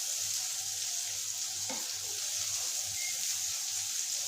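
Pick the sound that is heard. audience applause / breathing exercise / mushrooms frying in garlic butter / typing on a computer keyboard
mushrooms frying in garlic butter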